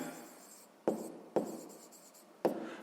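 A pen writes by hand on paper during a math lesson, quiet and close, with faint scratchy strokes broken by three sharp taps as it touches down.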